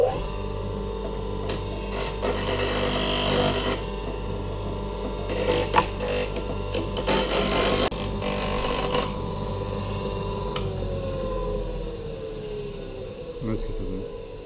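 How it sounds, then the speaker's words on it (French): An angle grinder bites in several short bursts against a small metal fishing spoon being shaped, its loud whine rising and stopping between passes over a low steady hum. "on va donner la forme à la cuillère avec une meuleuse ou à défaut avec une lime"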